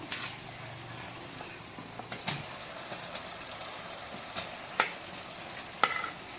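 Large chicken pieces go into a pan of fried ginger garlic paste and sizzle with a steady, moderate crackle. A few sharp metallic scrapes and clinks of stirring break through now and then, and nobody speaks.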